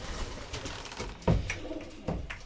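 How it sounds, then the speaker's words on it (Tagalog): Pigeons in a loft in Phenix City, Alabama coo softly in a series of low, throaty calls. A few slightly louder coos stand out, heard close and without talk. "Itong mga ibon natin."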